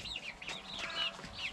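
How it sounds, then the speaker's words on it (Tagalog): Native Bisaya chickens at a rural Philippine home cluck in short, rising bursts nearby, several birds calling over one another in quick succession. "Tapos ito, mga manok namin."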